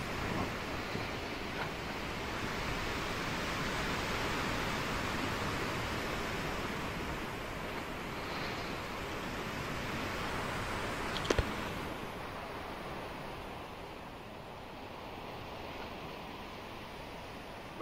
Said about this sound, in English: Those waves are pushing us toward, oh no, don't tell me we stopped.